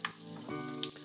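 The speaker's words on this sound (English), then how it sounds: "It's frying onions mostly." Onions sizzle and fry in a pan for mutton vindaloo, a quiet close crackle with a soft tonal hum and faint clinks over a brief moment.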